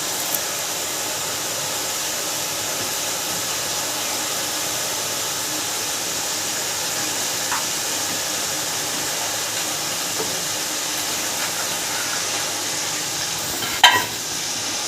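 Ghee-fried chicken with drumstick pods just added sizzles with a steady close hiss, and faint stirring scrapes sound beneath it, with a brief clatter near the end.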